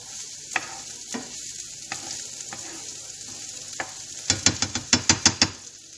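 Bacon lardons sizzle in a pan with a steady frying hiss, punctuated by occasional scrapes and then a quick run of sharp rhythmic clacks as a utensil stirs them vigorously near the end.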